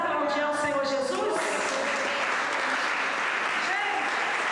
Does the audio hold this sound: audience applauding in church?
yes